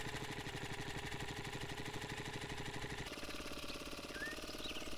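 A go-kart engine in 7 Days to Die runs with a fast, even, buzzing chug that holds steady throughout, its tone shifting slightly partway through, with no talking.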